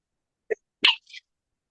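A single short, sharp sneeze, close and quiet, with a brief catch of breath before it.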